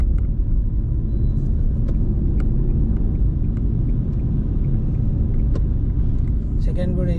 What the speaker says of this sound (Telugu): సెకండ్ గేర్ వేసాను.